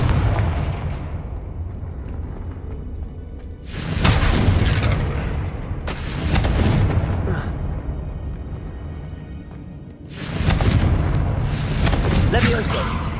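Confringo blasting spells in Hogwarts Legacy: several loud booming bursts spaced a few seconds apart, each a sharp broadband blast that decays into rumble, over continuous game ambience and some talking.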